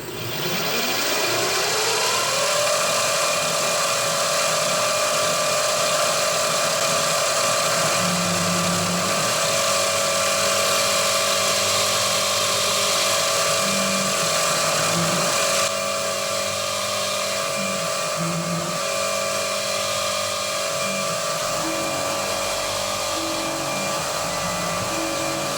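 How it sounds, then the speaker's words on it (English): Milling machine drilling through a part for a Titan .60 glow plug engine with a number 28 drill bit: a steady motor whine rises as the spindle spins up, then holds with intermittent lower grinding as the bit cuts, close and loud. "this is a number 28 drill bit. Just going to set my Z here, and we're going to drill right through this time."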